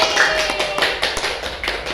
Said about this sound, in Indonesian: Tepuk tangan untuk kita semua lagi